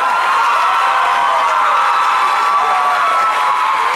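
A school audience in Abidjan claps and cheers in a loud, continuous wash of applause with shouts mixed in, filling the whole stretch without pause.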